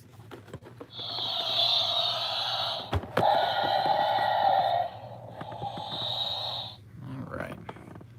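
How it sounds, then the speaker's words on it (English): An Alien Queen toy goes off nearby with a hissing, raspy electronic screech that holds for several seconds, then falls quiet, with faint background noise. "And that was the sound of an Alien Queen toy that I had"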